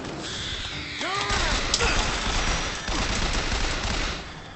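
Bursts of rapid gunfire crack through a busy BioShock Infinite soundscape, with a quick flurry of shots followed by scattered echoing blasts.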